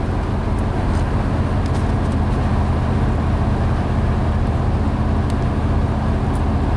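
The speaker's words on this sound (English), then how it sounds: "now we're going to let off the throttle completely" Chevrolet Equinox rolling along with the throttle fully released in fuel cut, a steady, even road and tire rumble with low engine hum inside the cabin, constant and moderately loud, no talking.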